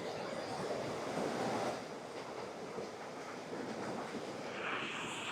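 A mountain creek near St. Mary's Falls in the Blue Ridge flows continuously, a broad wash of rushing, splashing and gurgling water with no voices.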